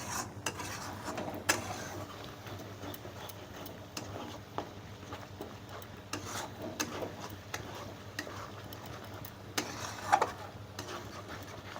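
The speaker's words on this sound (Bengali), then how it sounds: "মশলাটা কিছুক্ষণ নেড়ে দিতে হবে" Spice masala is stirred in a pan for vegetarian navaratna korma, with soft scraping and scattered light clinks of a utensil against the pan, quiet and close with no talking.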